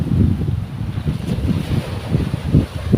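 Strong wind roars steadily at sea while big, gusting waves surge and break in rolling pulses, loud and continuous with no voices.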